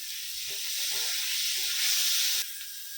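Chili paste frying with ginger-garlic masala, a loud continuous hiss and sizzle that swells partway through and then drops slightly.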